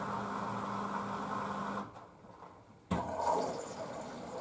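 A Blomberg washing machine running dark colours on a 1000rpm cycle, first with a steady motor hum, then a brief quiet pause before water rushes in loudly and keeps flowing for the final rinse fill.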